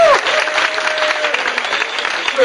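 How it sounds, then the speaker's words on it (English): An audience applauds a speaker, producing dense, steady clapping that stays loud and close throughout, with faint crowd murmur underneath. "Give Aaron a round of applause, please."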